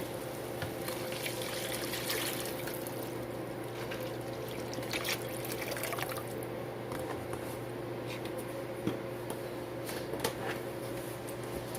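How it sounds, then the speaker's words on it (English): Water pours into a pot set up for a spicy peanut boil with a little pink Himalayan salt added, giving a steady trickling, splashing stream that runs the whole time over a constant low hum, fairly quiet and with no talk. "You can pour the rest of the water in."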